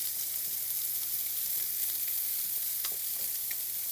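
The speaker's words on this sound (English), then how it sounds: "I've got the butter in the back. It's all melted, and it's going to start to brown pretty soon here." Melted butter sizzling steadily in a pan as it browns, a soft continuous crackling hiss with occasional small pops, no talking.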